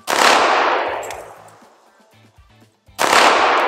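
A .45 handgun fires at a shooting range, two loud sharp reports a few seconds apart, each ringing out and decaying over about a second.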